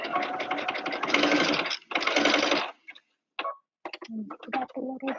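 Sewing machine stitching a quilted apron in a cover-stitch style, two loud sustained bursts of rapid whirring stitching up close, followed by short scattered clicks and bits of handling noise.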